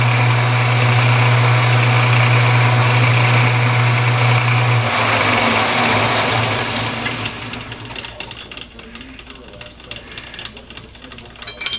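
A metal lathe cuts a lead-in chamfer on one end of a four-way tool post part, a steady loud machine hum and cutting noise that runs for several seconds and then drops away to quieter workshop sounds.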